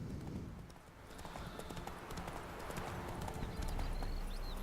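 Horse hooves clip-clop in a steady galloping rhythm as a rider crosses a sunflower field in The Witcher 3, fairly quiet and even, set against soft outdoor ambience.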